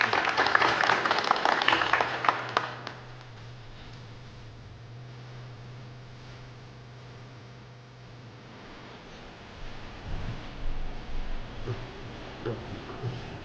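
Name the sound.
audience applause at award ceremony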